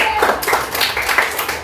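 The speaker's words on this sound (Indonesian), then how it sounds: "tepuk tangan untuk kelompok 1." Classroom applause for a student group in an elementary religious education lesson, a dense patter of clapping hands that runs steadily throughout, close and fairly loud.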